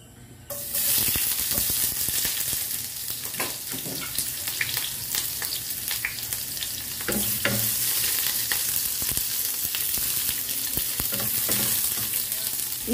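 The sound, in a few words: onion and garlic sautéing in cooking oil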